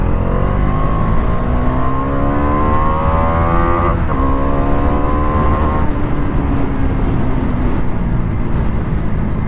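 A Dominar 400 motorcycle accelerating along a main road, its engine note climbing through gear changes with rising and falling revving tones under steady wind rush, loud and close throughout.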